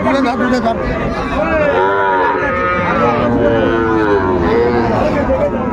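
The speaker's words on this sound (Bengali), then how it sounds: "বকনা বাচ্চা।" Sahiwal heifer calves moo repeatedly at a busy cattle market, several drawn-out calls close by over a background of crowd chatter and people talking.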